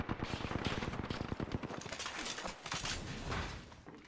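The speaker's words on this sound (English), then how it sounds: "Reloading. Taking fire." Rapid bursts of gunfire in the battle royale shooter Apex Legends, dense repeated shots across the whole stretch, loud and close with some trailing reports.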